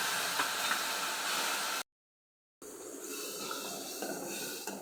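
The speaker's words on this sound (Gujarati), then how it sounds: "તેલ ગરમ થઈ ગયું છે હિંગ મૂકીને લસણની આ પેસ્ટ જે ચટણીની કરી હતી વઘાર નાખી" Asafoetida and garlic paste sizzle in hot oil, a steady close hiss with a brief gap of silence midway before the frying resumes.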